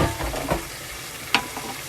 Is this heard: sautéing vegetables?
yes